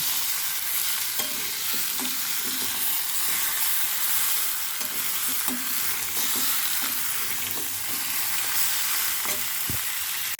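Food stir-frying in a hot pan, a loud, continuous hissing sizzle broken by faint scraping taps of a spatula, close by and steady for the whole stretch with no speech.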